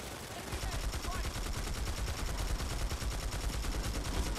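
Rapid automatic gunfire from the video game Planetside 2, a dense continuous burst of shots with a rattling rhythm, fairly close and steady throughout.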